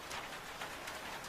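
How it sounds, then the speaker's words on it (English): Gentle rain spatters steadily on a roof, a soft, continuous hiss of drops with no voices over it. "The rain spattered so gently on the roof"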